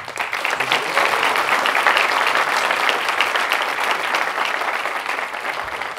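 An audience applauds steadily at a music master class, a dense, even wash of clapping sustained for several seconds.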